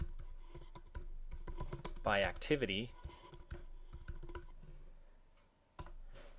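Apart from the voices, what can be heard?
typing on a computer keyboard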